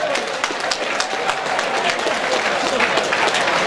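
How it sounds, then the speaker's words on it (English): An arena crowd at a fight night applauds the fighters after the bout, a dense sustained wash of clapping with cheering and voices mixed in. "Ladies and gentlemen, a massive round of applause"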